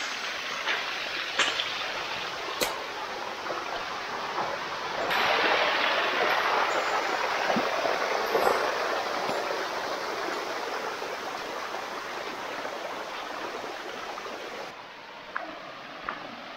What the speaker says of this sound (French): c'est la même cascade sur plusieurs étages